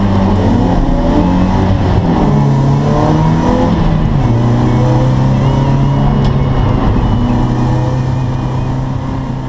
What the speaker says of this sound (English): So here I am on my BMW E36 318 IS race car.